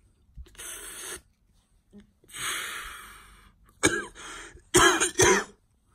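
Several coughs and throat-clearing bursts, harsh and close, with a couple of sharp hacking coughs near the end; no talking.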